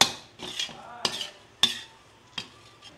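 A spoon scrapes and clinks against a bowl while coconut ladoo mixture is stirred, giving several distinct sharp metallic taps spaced irregularly over a quiet background.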